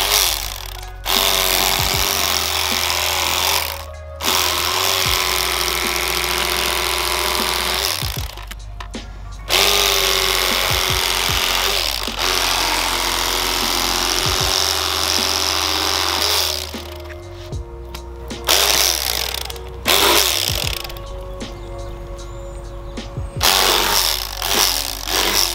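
A Rapala 12 heavy-duty lithium battery electric fillet knife cuts through fish, with a loud buzzing motor and a rapid vibrating chatter that runs in long bursts, stopping briefly several times before starting again.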